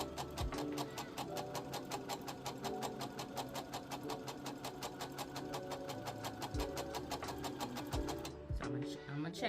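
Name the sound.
sewing machine back stitching white stitch on scrunchie fabric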